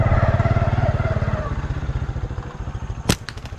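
A motorbike engine putters steadily up close for about three seconds out in swampland during a slingshot bird hunt, then it fades and a few sharp clacks follow.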